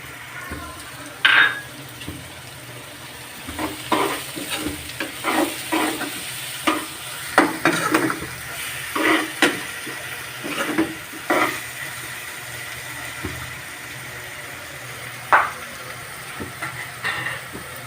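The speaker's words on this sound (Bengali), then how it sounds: "আদাগুলো আগে দিয়ে দেবো, এগুলো একটু ভেজে নিতে হবে" Ginger and ground spices fry with onion in oil for a koi fish bhuna, a low sizzle punctuated by sharp, irregular spatula scrapes and knocks against the pan, close up.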